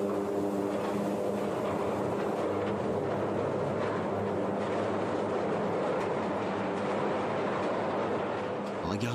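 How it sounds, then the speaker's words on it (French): A moving train struck by a powerful tornado wind gust, heard as a dense, continuous roar and rumble with rail noise, loud and close throughout with no break. "Une puissante rafale de vent frappe le train en marche."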